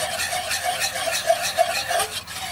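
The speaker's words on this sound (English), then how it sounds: "you take a good dollop of unsalted butter and you stir" Unsalted butter being stirred into a duck sauce in a pan, a steady soft scraping and swishing that runs continuously at close range, with no voices.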